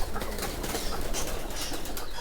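Pigeons kept in a home aviary alongside sparrows and parrots, wings flapping in quick rustling bursts, close and steady, with no talk.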